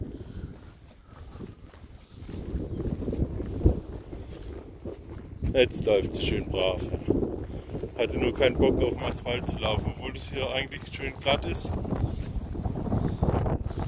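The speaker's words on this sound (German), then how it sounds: "Ja, sorry für den Wind, aber da kann ich jetzt nichts für" Wind blowing into the microphone outdoors while a horse is led along, a low gusty rumble throughout, with footsteps and someone speaking over it.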